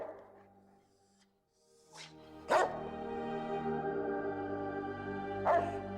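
A dog barks in Fallout: New Vegas: two sharp, close barks a few seconds apart over a low game ambience, after a soft whimpery yip at the start.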